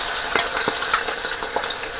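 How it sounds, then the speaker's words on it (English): Seasoning thrown into hot oil for a beef and potato stir fry fries with a dense, close sizzle dotted with sharp little pops and crackles. "the oil is hot, and now I'm gonna throw the seasoning to fry up a little"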